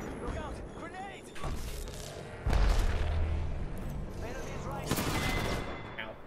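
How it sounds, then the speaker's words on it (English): Grenades explode during an Apex Legends match: a heavy, booming blast lands near the middle, surrounded by rapid bursts of gunfire and other battle noise, with players talking over the action. "Look out, grenades!"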